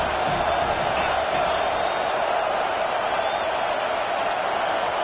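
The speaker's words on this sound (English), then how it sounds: "Decibels rising as the crowd gets behind this defense on 3rd down." A football stadium crowd at a Penn State game roars loudly and steadily through a third-down play, a dense sustained wall of cheering and noise with no breaks.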